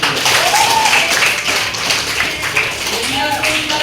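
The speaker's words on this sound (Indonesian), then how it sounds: "Sangat bagus. Tepuk tangan dulu sebelumnya." A class of students applauding their teacher during a lesson, scattered claps and taps mixed with voices and chatter, fairly close and moderately loud throughout.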